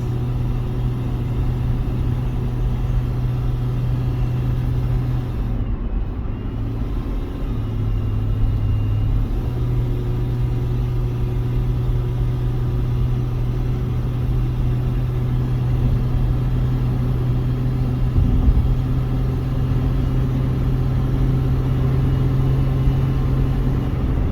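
A 2003 Chevy Trailblazer climbs a hill, its engine giving a steady, loud, continuous drone and road rumble that holds evenly throughout, with no voices.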